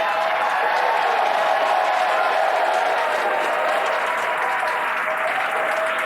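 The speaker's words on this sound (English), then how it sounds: "Crowds cheering here at SpaceX Mission Control Hawthorne as we tune in to see if we stick the landing." Crowd at SpaceX Mission Control in Hawthorne applauding and cheering after a Falcon 9 booster landing; dense, loud, steady clapping and cheers for about six seconds.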